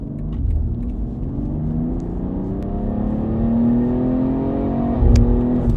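A BMW X3 M with an aftermarket CTS midpipe revs steadily upward, its deep, throaty exhaust drone growing louder, ending in a brief sharper pop near the end.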